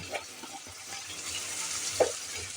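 A ground cumin and coriander mix sautés in a pan for an old-style ridge gourd and split pea dish, a soft steady sizzle with a few stirring scrapes.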